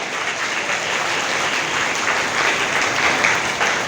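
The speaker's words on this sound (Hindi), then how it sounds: "तालियां और थोड़ी तीव्र हो जाएं" A crowd at a social reform campaign gathering in Bihar claps loudly and continuously, a brief, even burst of applause with no voices over it.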